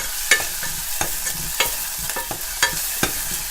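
Mustard and cumin seeds crackle and sizzle in hot oil as a tempering for a South Indian tomato kootu, with sharp irregular pops over a steady frying hiss, close and fairly loud.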